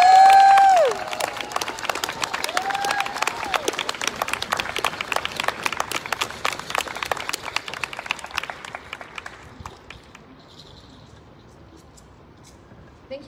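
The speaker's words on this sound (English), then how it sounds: "Let's give her one more big round of applause, y'all." Applause from the audience at a press conference launching a people's budget in Long Beach: many hands clapping steadily at middle distance after a brief whoop, gradually dying down to silence.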